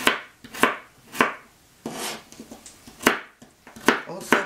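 A knife chops radish, dill and cucumber for a salad on a board, giving a series of crisp, irregular thumps up close, with no voice over them.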